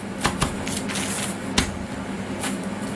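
Knife cutting through a sheet of puff pastry into four pieces on a kitchen counter, a few soft scraping and tapping strokes close by, no talking.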